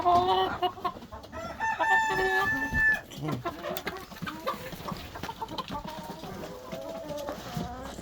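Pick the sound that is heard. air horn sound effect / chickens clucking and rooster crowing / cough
chickens clucking and rooster crowing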